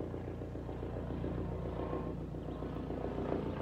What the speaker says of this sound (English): I'm extending loving kindness even toward that helicopter.